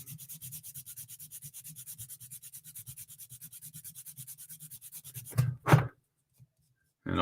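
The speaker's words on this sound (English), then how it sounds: "This just needs to be sanded down" Sandpaper is rubbed back and forth over a wooden piece to flatten it, making a quiet, steady rhythmic scratching of quick even strokes that ends with a couple of louder scrapes and then stops.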